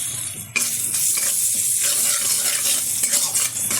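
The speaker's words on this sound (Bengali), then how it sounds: "এবার হালকা একটু নেড়ে চেড়ে নেব।" Crushed garlic, skins still on, sizzles in a pan while being stirred, with a loud steady fry and scraping stirring strokes after an abrupt jump in level.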